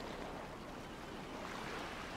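Water rushes and splashes around a car in the video game GTA V as it crosses a broken bridge, a steady, dense, surf-like roar that holds even with no break for the whole stretch.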